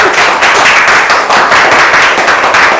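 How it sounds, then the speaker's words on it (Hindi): Applause from a group for a student in a classroom, a dense steady wash of many hands clapping at once, loud and continuous with no talk over it. "मेरे जितने भी व्यूअर्स हैं उसके लिए तालियां बजा दें"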